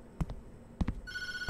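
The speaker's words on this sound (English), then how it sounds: "Phone's ringing." A telephone rings in the Tattletail video game. A few dull knocks come first, then a bright electronic ring starts partway through and continues to the end, with no talk.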